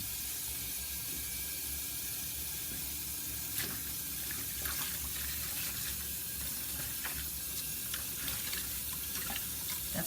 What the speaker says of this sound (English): I'll put some hot water in this, more detergent.